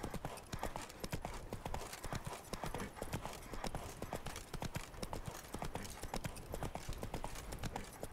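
Roach the horse galloping in The Witcher 3, a rapid, steady clip-clop of hooves close up and continuous throughout, with no talk over it.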